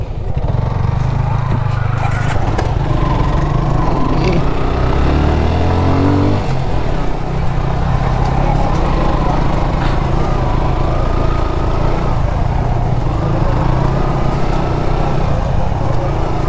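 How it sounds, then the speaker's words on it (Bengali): Motorbikes grind up a steep hill road near Tindu, Thanchi in Bandarban, their engines droning loud and continuous with a rising rev partway through, no talk over them. "বাইকগুলো আসতেছে, আস্তে আস্তে আসুক।"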